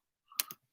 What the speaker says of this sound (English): Let me just type it in the chat here.